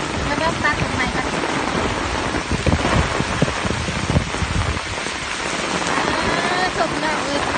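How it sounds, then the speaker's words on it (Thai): Heavy rain pounds down steadily with gusting wind in a village storm, a dense continuous roar throughout with occasional louder surges. "มีฝนมีทั้งลมทั้งฝน"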